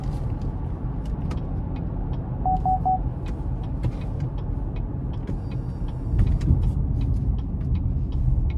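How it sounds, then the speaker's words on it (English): The V6 engine of a 2019 GMC Canyon Denali pickup hums at a steady low idle-to-cruise rumble through the exhaust, with small clicks over it and a slight rise in throaty drone near the end. "the sound from the engine and the exhaust is also really nice here with this V6"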